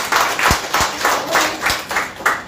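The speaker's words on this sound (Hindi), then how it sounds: "इनके लिए तबला वादक के लिए ताली" Audience clapping for a tabla player at a performance, a steady patter of many hands that stays fairly loud and even over a couple of seconds, with no one talking.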